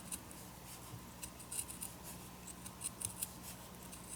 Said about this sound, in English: I am just trimming that down